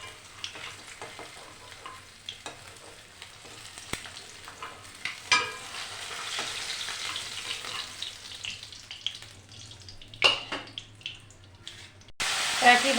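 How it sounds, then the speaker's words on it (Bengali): Amudi fish sizzle and spatter in hot frying oil, a steady crackling hiss with occasional louder pops and faint clinks, close up and without speech. "একইভাবে এই মাছগুলোও ভেজে নেব"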